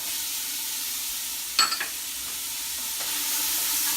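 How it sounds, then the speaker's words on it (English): Onions and garlic saute in oil in a hot pan, giving a steady, moderate hiss broken by a brief clatter of stirring partway through. "Give them a quick saute."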